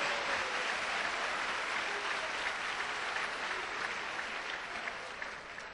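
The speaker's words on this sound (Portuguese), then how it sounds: "Pode aplaudir porque é para Jesus, irmão." An evangelical church congregation applauds during a sermon, producing a dense, even wash of clapping that carries steadily for several seconds and eases off slightly at the end.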